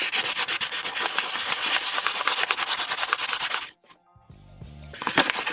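A part of a 1/32 Aoshima Batmobile model kit is rubbed briskly with fine-grit sandpaper, close and steady back-and-forth scratching strokes that pause briefly, then resume.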